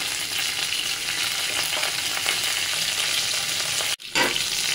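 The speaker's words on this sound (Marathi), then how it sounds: "मी पॅनमध्ये तेल घातलेलं आहे, आपण टाकूया कढीपत्ता, ही घातली मी राई" Curry leaves, mustard seeds and cumin sizzle steadily in hot oil in a pan for a tempering, a close, dense frying hiss with a brief break near the end.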